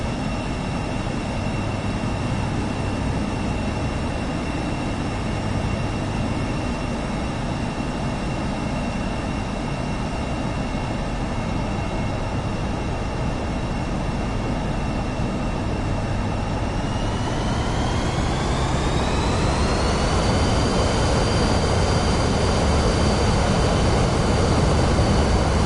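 Jet engines of a Boeing 767 spooling up for takeoff in Microsoft Flight Simulator 2024, a steady loud roar with whining tones that climb in pitch about two-thirds of the way through, no talking.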